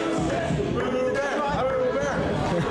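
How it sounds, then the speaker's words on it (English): A wrestling crowd at a TWF event roars in a steady, dense wash of cheering and shouting, with voices layered close over the noise throughout. "the crowd cheers him."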